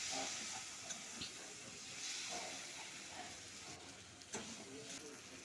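Spices and egg masala fry in a pan, a faint continuous hiss and sizzle with soft clinks of stirring.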